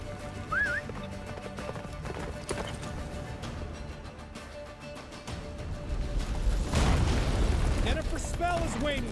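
A horse gallops in The Witcher 3 video game, a rapid clip-clop of hooves with a whinny, under rumbling game effects that swell toward the end as voices speak.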